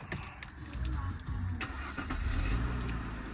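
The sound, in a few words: Mercedes CLK 280 3.0 V6 engine starting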